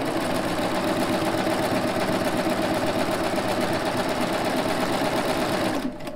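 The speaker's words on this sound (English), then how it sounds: "I always go slow with a rolled hem." Sewing machine stitching a rolled hem on knit fabric at a slow, even pace, a steady loud mechanical whirr that runs without a break and stops just at the end.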